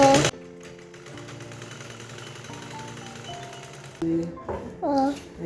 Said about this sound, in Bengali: এটা সেলাই করছি এই দেখো বন্ধুরা